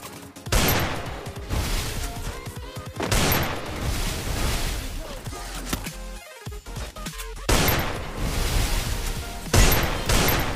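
Loud bursts of rapid gunfire from Garena Free Fire during a 1v1 custom match, with several dense volleys separated by short pauses and no talking.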